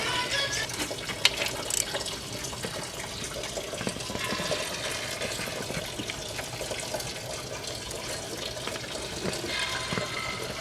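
Coolant drains steadily from a 2002-2006 Jeep Liberty 3.7L engine during a water pump replacement, a continuous splashing, trickling pour with a few light knocks, no talk.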